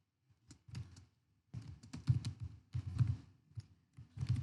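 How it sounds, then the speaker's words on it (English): Computer keyboard keys clack in quick irregular bursts while typing text in vim insert mode, with short pauses between flurries, close and fairly quiet. "Now I can start typing."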